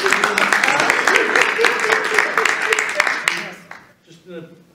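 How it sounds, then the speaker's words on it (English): An audience at a hypnotist show in a library applauding, a dense burst of clapping that fades out after a few seconds, with voices mixed in. "can we give them a round of applause"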